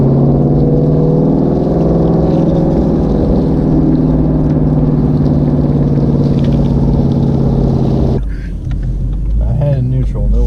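A Shelby GT350's engine drones loudly and steadily at high revs under a launch control attempt, then drops abruptly near the end into a lower idle with a few blips, with someone talking over it.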